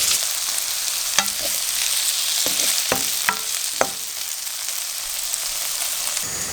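Courgette and cherry tomatoes sizzle in a frying pan under a continuous hiss, with a handful of sharp utensil scrapes and taps clustered in the middle, close and steady, no voices.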